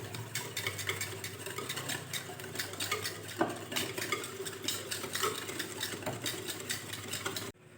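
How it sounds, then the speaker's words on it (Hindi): Yogurt marinade with small lemons being stirred for chicken leg pieces, a steady run of soft scraping and clinking of a utensil against the bowl with one sharper knock midway, close and alone. "तो इसे अच्छे तरीके से मिक्स कर लेंगे।"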